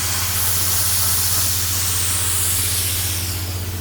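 A Sabre plasma cutter with a built-in compressor runs at 43 amps off a generator on an outdoor site, giving a steady, loud, close hiss with a low constant hum beneath, unbroken throughout and with no voices.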